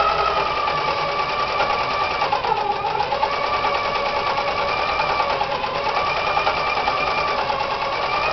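A sewing machine stitching fabric laid flat, running continuously with a fast, even mechanical hum and needle patter close by, a slight slowdown midway, no voices.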